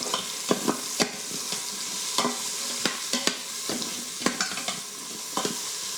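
Onions, garlic and bell pepper stirred in a pan with a spoon, scraping and clacking in irregular strikes over a steady low sizzle, close and moderately loud, no voices.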